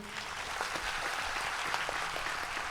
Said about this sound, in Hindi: आप सब के लिए बहुत ज़ोरदार तालियां बजनी चाहिए।